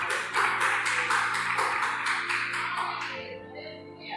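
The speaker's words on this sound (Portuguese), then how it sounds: "Palmas para Jesus." A church congregation applauding for Jesus, with loud rhythmic clapping over sustained music that fades out toward the end.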